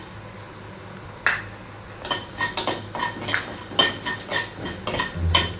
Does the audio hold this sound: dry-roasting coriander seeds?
yes